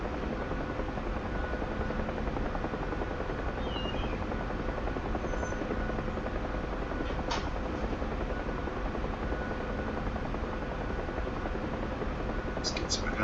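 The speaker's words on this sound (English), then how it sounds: "as we turn back towards our forward air base, we're going to slow down and come into land" A UH-1H Huey helicopter in the DCS flight simulator drones with a constant, even rotor and turbine roar as it slows toward a landing at a forward air base, while a voice talks quietly over it.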